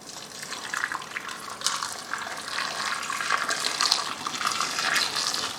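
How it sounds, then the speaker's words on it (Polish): Boiling water is poured over fresh garden tomatoes in a home kitchen to scald off their skins, a steady splashing rush with small surges that runs the full length of the clip, close and fairly loud, without talk. "zaleję gotującą wodą, wrzącą wodą, sparzę, żeby zdjąć skórkę"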